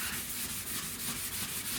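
Sandpaper wet-sanding a car body panel during paint prep, a steady close rasping rub with rhythmic back-and-forth strokes, loud and continuous with no voices.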